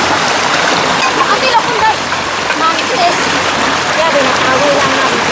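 Abundant spring water flows and splashes steadily at a mountain bahay kubo with hot and cold springs, a close, continuous rushing wash with voices talking over it.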